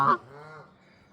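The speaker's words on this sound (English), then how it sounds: "It actually sounds more like a farm animal than a Canada goose." A goose gives one loud, harsh honk up close, followed by a fainter drawn-out nasal call that fades, with no talk over it.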